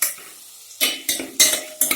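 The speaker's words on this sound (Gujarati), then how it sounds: "લસણ વાટીને જે રાખેલું છે એ અંદર એડ કરી અને ગુલાબી રંગનું થાય ત્યાં સુધી એને" Crushed garlic sizzles in melted butter in a pan while a spoon stirs it, giving a low hiss broken by several sharp scraping strokes, close and distinct.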